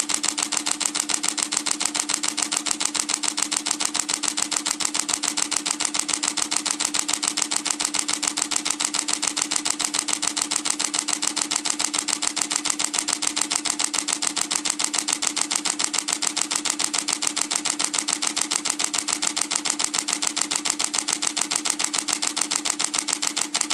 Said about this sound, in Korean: 드라이브 모드 하이에서는 최대 7프레임의 연속 촬영을 진행할 수 있는데요